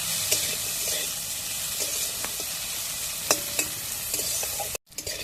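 Bitter gourd frying crisp in hot oil gives a steady close sizzle, with a few sharp stirring clicks throughout and a brief break near the end.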